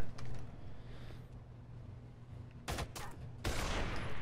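Gunfire in Rainbow Six: Vegas, with a few close, sharp bursts of shots toward the end following a quieter stretch of low rumble.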